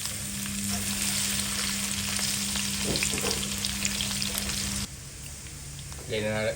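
Ginger and then garlic fry in oil for a chicken curry, a close, continuous sizzle with soft stirring scrapes and a steady hum beneath, dropping quieter near the end as a voice speaks over it.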